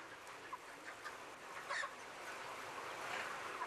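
Chickens in a large industrial broiler farm housing tens of thousands of birds per barn make a faint, steady chorus of clucks and chirps, with a dense background murmur and a few brief louder calls.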